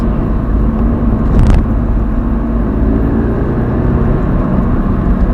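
A Toyota GT86 sports car engine roars steadily with a deep, loud rumble, building as it accelerates, with a brief sharper burst partway through and no talking.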